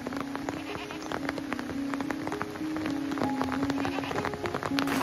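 Steady rain patters down on a small off-grid farm while several sheep bleat repeatedly near and far, their calls rising over the constant drizzle on the surfaces.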